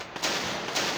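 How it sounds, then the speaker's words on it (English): Cannons fire in the video game Shogun's Empire: Rise of the Takeda Clan, two booming reports about half a second apart over a steady wash of battle noise. "As for my cannons, boom."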